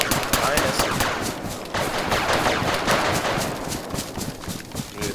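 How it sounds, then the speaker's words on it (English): Rapid automatic gunfire rattles almost nonstop in a video game, dense bursts of shots from more than one weapon, loud and close, with players talking over it. "Two people shooting."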